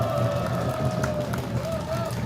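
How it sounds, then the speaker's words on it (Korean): A large outdoor crowd at a street rally calling for a special law claps and cheers in a continuous, roaring mass of noise. A few voices rise above the dense, steady din. "여러분 큰 박수와 환성을 한번 보내주시기 바랍니다"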